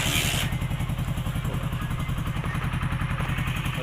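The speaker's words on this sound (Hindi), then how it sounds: "एक किक में ही बाइक स्टार्ट हो जाएगी" Hero HF Deluxe motorcycle engine running after a kick start, a steady low rhythmic idle chugging loud and close, preceded by a brief hissy burst at the very start.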